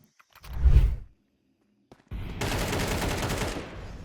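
Gunfire in Counter-Strike on the map Ancient: a short heavy burst, a gap of near silence, then a loud sustained stretch of rapid shots lasting over a second before tapering off.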